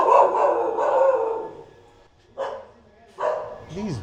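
Several dogs at a Karni Mata temple in India bark and howl angrily at close range, a sustained volley followed by two sharp separate barks and a rising yelp.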